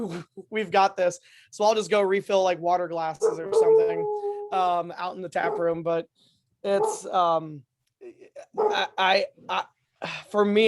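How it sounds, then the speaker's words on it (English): A hound dog howls in the background of a restaurant tap room, its drawn-out wail rising under steady talk from a person speaking close by. "I apologize for the hound dog."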